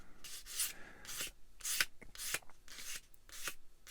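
A tiny plastic part from a Bandai Star Wars 1/144 AT-AT model kit is sanded in repeated short, brisk rubbing strokes, close and fairly loud, with brief pauses between passes.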